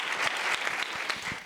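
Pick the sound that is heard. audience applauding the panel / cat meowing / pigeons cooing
audience applauding the panel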